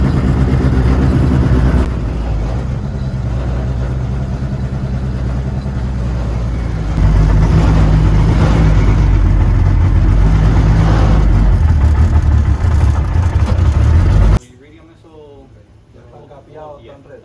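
Turbocharged Honda Civic EG engine running loud and close, a steady roar that rises at intervals, then cuts off abruptly into quiet with a voice heard afterward.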